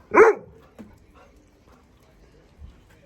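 A single sharp bark from a puppy near the start, followed by a softer short yip and faint shuffling.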